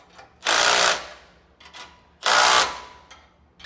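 Trailer axle hub bolts are run down a few turns at a time with a power tool: two loud, steady whirring bursts of about half a second each, separated by a pause with faint clinks.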